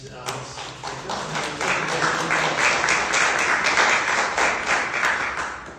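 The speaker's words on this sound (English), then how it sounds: "we can give them a round of applause, please" An audience at a panel session on traumatic brain injury research applauds the panelists with crisp, distinct claps that build into a full, steady round and taper slightly at the end.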